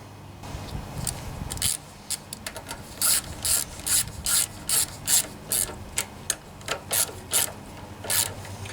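A ratchet snugs down two 10mm nuts on a Honda 179cc side-shaft engine fitted to a Homelite pressure washer, giving a steady run of quick back-and-forth clicking bursts, close and clear after a brief scuffle.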